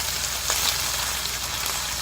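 Turkey bacon frying in a pan over medium heat, a steady close sizzle with faint crackles and pops throughout, no talk.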